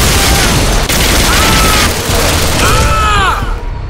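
Loud, dense shooting and explosive booms from the arcade shooter game Bodycount, a continuous barrage of gunfire with whizzing and ringing tones throughout a few seconds, no talk over it.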